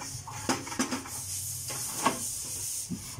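Dishes and pots are washed in a sink on a rooftop. Faint clinks and knocks of crockery sound over a steady hiss of running water, with no voices.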